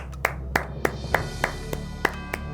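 Sparse, evenly spaced hand claps from a small group in an office setting, about nine claps over a couple of seconds, close and moderately loud.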